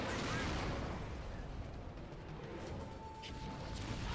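Shotgun blasts in BioShock Remastered, loud booming shots with dense crackling debris at close range, one strong report at the start and more under a continuous din, with someone talking faintly.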